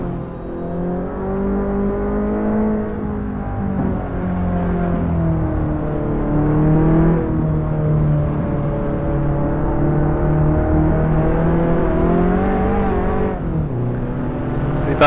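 An Abarth 500 EsseEsse in Assetto Corsa at Magione, its engine held steady at high revs then climbing and dipping through gear changes, a loud, continuous drone with no voices.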